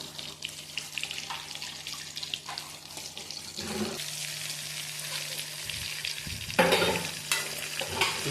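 Marinated chicken 65 pieces fry in hot oil on a slow flame with a dense continuous crackle and sizzle, close up, with occasional stirring scrapes and a few louder bubbling bursts.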